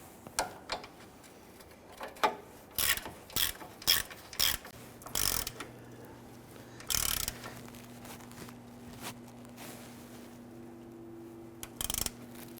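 Ratchet tightening the front lower control arm bolts on a 2007-2014 Cadillac Escalade, close and quiet, in several short bursts of rapid clicking spread across the span, with a low steady hum underneath.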